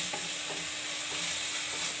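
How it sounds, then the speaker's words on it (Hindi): Ginger and spices frying in oil for a yam curry, a dense, continuous hiss of sizzling with faint periodic scrapes of stirring, close and even, no talking. "अब सटा के बढ़िया से फ्राई कर दियो।"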